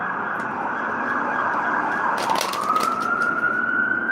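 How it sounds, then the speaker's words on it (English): Emergency vehicle sirens wail and sweep back and forth, rising and falling in pitch, loud and steady throughout with no speech over them. "You hear them sirens going back and forth like that?"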